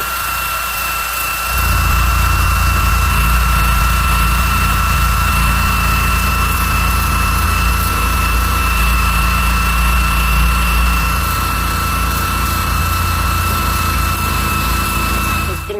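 A car engine drones loudly and steadily during the drive home from work, with its low rumble swelling after the first second or so and then holding constant.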